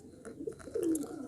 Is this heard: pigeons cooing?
yes